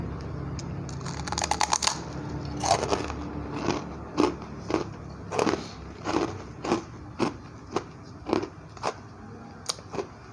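Crisp crunching bites of a fried Indonesian traditional snack with a fairly hard texture, a rapid burst of crackles followed by steady rhythmic chewing crunches, close and clear with no talking.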